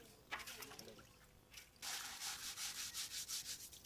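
Paddy rice being washed and stirred by hand in a container of water gives a rough, rhythmic swishing and rubbing, quiet at first and then a steady run of strokes, close and with no talk.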